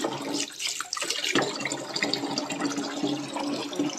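Running tap water pours steadily while something is washed by hand, a loud close rushing splash with brief shifts as the stream is interrupted, with no voices.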